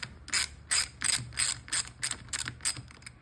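Socket ratchet turning a spark plug on a Sea-Doo Spark watercraft engine, a close run of about nine crisp clicking bursts in a steady rhythm, with no talk.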